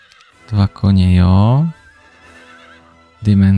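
A horse in Heroes of Might and Magic 3 lets out one loud, close whinny that rises and falls for about a second, after a short snort, with a brief second burst at the end.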